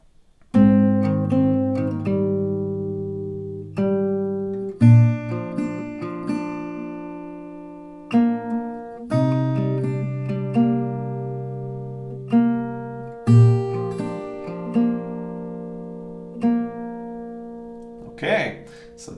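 An acoustic guitar plays the repeating melody pattern of Powfu's ML4U, plucked notes ringing over sustained chords, one full round of the phrase played solo and close with clear, steady attacks and no voices.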